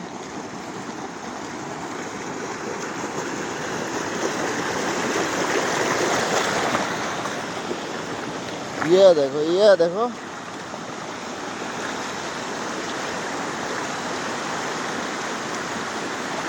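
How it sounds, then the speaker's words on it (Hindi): Floodwater pours over a field embankment, a steady broadband rushing of flowing water heard close, with a person speaking briefly over it midway. "पानी इतना भर गया है कि मेड़ के ऊपर से जा रहा है"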